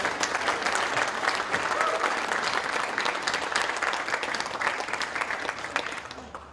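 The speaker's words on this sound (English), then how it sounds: "So can we connect our hands together and give a round of applause?" Sustained audience applause at an automotive paint and panel repair industry conference keynote, steady and dense throughout the clip before tapering slightly at the end.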